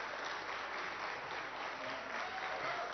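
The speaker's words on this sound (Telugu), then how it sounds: "ఈ చప్పట్లు ప్రోటోకాల్కి కాదు సార్, ప్రజల కోసం సంకల్పంతో పనిచేసే మీ నాయకత్వానికి సార్" Steady, sustained applause from a gathering greets Telangana Chief Minister Revanth Reddy, a dense even patter of many hands heard at a moderate distance with no gaps.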